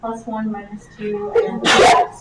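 A person speaks briefly, then a single loud, sharp sneeze bursts out near the end, close by.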